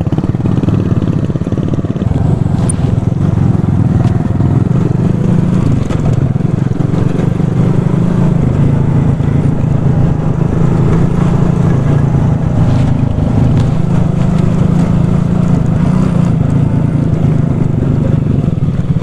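A moped engine drones loud and steady while riding through a forest, with wind rushing over the microphone throughout and no break in the engine noise.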